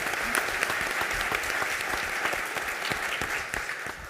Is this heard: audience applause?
yes